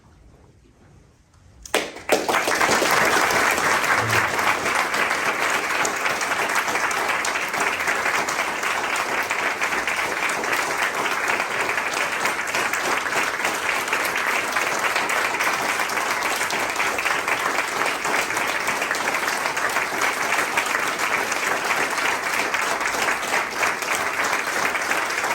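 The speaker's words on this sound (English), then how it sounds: "The applause was so great, you didn't hear what I was meant to say" After a near-silent start, an award ceremony audience bursts into loud, sustained applause that stays dense and even for over twenty seconds, many hands clapping together with no talk.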